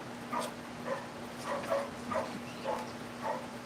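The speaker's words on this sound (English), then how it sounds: "Like the dogs wanting to go out." A dog whining to go out, a string of short, high whimpers and yips repeated about every half second over a low steady hum, fairly soft and close.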